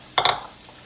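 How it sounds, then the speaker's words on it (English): Onions and carrots hit melted butter in a stew pot, giving a brief bright burst of sizzling and stirring noise that quickly settles into a faint, steady hiss. "we're going to let these saute"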